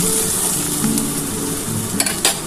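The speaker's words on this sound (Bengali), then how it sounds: "একটু পেঁয়াজটা হালকা করে ভাজা হলে" Onions sizzle and crackle steadily in a hot pan up close, with a few light scraping and clinking sounds near the end.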